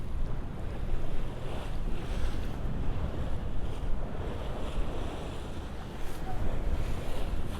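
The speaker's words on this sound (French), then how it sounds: "On a une belle mer formée. On a du vent entre 17 et 22, 23." Rough sea surf crashing continuously under strong, gusty wind of 17 to 23 knots buffeting the microphone aboard a solo sailboat, loud and unbroken throughout.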